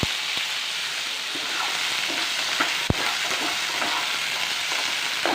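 Sweet pumpkin frying in a pan, a steady close sizzle with a few sharp clicks and scrapes from stirring, no talking.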